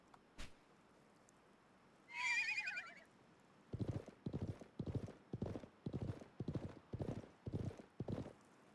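A video-game horse whinnies loudly, then hooves clip-clop in a steady, rhythmic gallop, close and clear over a quiet background.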